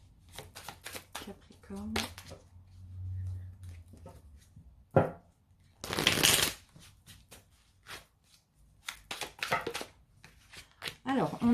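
Oracle cards being shuffled in a tarot-style reading, a dense papery riffle burst mid-clip and softer card handling elsewhere, close and clear, with someone speaking French between the shuffles.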